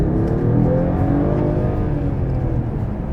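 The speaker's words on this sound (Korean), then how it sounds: "컴포트에서 그냥 가속 페달을 쭉 밟아도 벤츠의 9단 변속기가 굉장히 똑똑해진 그런 느낌이 납니다" A Mercedes-AMG GT 43 4-Door with a nine-speed transmission accelerates hard, its engine and exhaust giving a steady, loud, close drone that rises in pitch as it pulls, with no talk over it.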